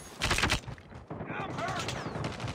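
Rapid bursts of gunfire in the Call of Duty video game, a loud volley followed by sustained shooting, with game voice callouts and effects layered over the shots.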